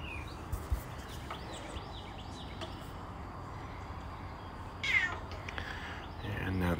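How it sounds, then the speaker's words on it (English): A house cat gives a few faint meows against a low background hum, one clearer call near the end, and no talking. "And now the cat is telling me what to do."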